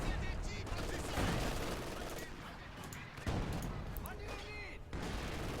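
Machine guns fire in a Company of Heroes 2 battle against Panzer Grenadiers, with dense bursts and rattling volleys under explosions. The mix is busy and loud, and a commentator speaks over it.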